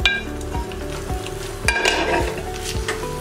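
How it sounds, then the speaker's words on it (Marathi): Grated fresh coconut roasting in melted ghee sizzles loudly in a pan, stirred with regular scraping strokes and a few metallic clinks of the utensil against the pot. "तूप विरघळल्यावर आपण हे ओलं खोबरं भाजून घेतलेलं थोडंसं ते पाहूया"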